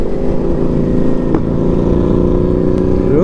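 A Yamaha R1M sport motorcycle on a group Sunday ride roars loud and close with a steady engine drone, then revs up near the end, with wind buffeting the microphone.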